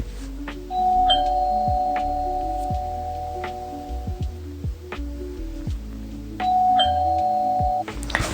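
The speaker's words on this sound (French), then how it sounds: "Allez, on sonne." A doorbell in the Roblox game Brookhaven rings twice, a clear two-tone chime near the start and again near the end, over a looping game music background.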